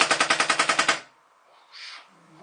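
Rapid burst of about ten identical gunshots from a video game weapon, evenly spaced and loud for a second, then near silence with faint trailing noise.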